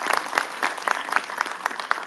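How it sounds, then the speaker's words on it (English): Audience applause at a pop culture expo convention panel, a brief burst of steady clapping from a seated crowd, fairly close and even, with no talk over it. "Let's give a round of applause for it."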